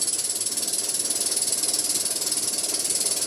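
Electric motor driven by an Invertek variable frequency drive spinning up toward 100 Hz, a steady faint whirring and fine ratcheting mechanical hum with a high whine, alone without talk.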